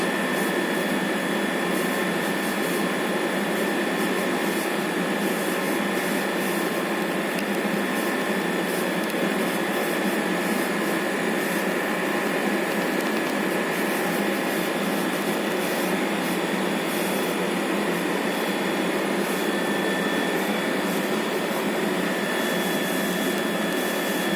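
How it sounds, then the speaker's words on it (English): A TIG welding arc burns between a tungsten electrode and the workpiece while filler metal is fed by hand, giving a steady, even electrical hiss and buzz that holds at constant loudness throughout, close up and alone. "You can see the arc will be set up between the tungsten electrode and the workpiece"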